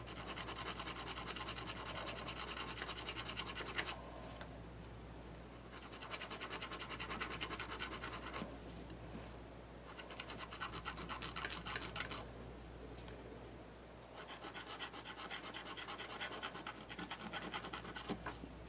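Medium fine grit sanding stick rubbing across a clay and fabric yoga frog figure, a close, steady scratchy rasp in long strokes with a few brief pauses.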